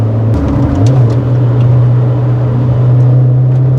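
A 2010 Kia Forte Koup engine idles and briefly revs through an aftermarket JBL exhaust, its deep exhaust drone loud, steady and close throughout.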